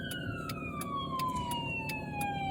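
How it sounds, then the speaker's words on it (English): Ambulance siren wailing on a road, its steady tone gliding slowly downward as it passes, with a rapid rhythmic pulsing layered over it and low road rumble underneath. "Oh, there's an ambulance."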